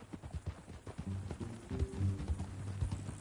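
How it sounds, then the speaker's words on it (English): Horse hooves clip-clop on the ground in the Red Dead Redemption video game, a steady rhythmic trot close and moderately loud over a background wash of ambient noise. "That new horse? Some folk buy ranches, some buy horses."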